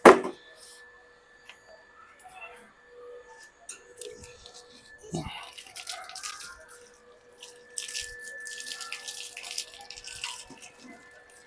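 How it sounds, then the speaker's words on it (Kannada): A garden hose sprays water over vehicles being rinsed after shampooing, with a weak flow through a kinked pipe. It gives a faint, uneven hiss that grows toward the end, with a few clinks and knocks. "ಇವಾಗ ನೀರು ಹೊಡೆದು ಬಿಡೋಣ ನೀವು ನಮ್ಮ ಗಾಡಿಗಳಿಗೆಲ್ಲ"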